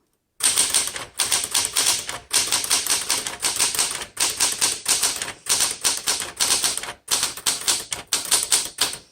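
Steady typing on a 1966 Smith Corona Classic 12 typewriter up close, rapid clacking keystrokes in quick runs separated by brief pauses, with no voices.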